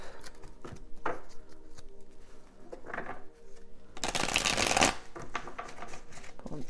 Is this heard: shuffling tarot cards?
yes